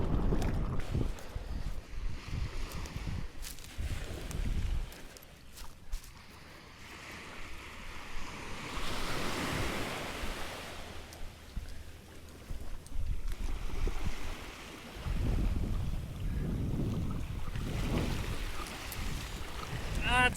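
Rough sea after a typhoon off West Izu, heard from a kayak during strong-wind warnings: a continuous roar of surging waves and gusting wind buffeting the microphone, swelling and easing in long, loud waves.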